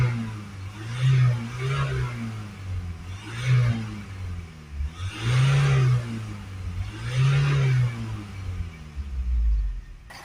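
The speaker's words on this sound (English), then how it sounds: "Give it a few revs." Ford Transit Custom 2.0 EcoBlue diesel van engine revved four times in steady bursts, each rise in pitch falling back to a rumbling idle, close and loud with no talking.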